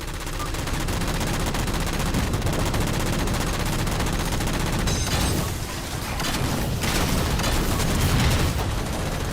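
Sustained, dense gunfire from the Halo Master Chief Collection as jammers are shot down, loud and continuous with heavy rumbling bursts and no talking.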